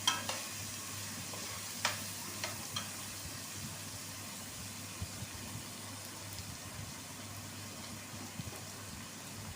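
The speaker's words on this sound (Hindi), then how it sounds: "तो अब हमें इसको अच्छी तरीके से फ्राई कर लेना है जब तक ये लाल ना हो जाए, हल्का रेड ना हो जाए" Onions fry in a pan for poha with a faint, steady sizzle and crackle, joined by a few soft spoon taps and stirring scrapes, quiet and continuous with no talk.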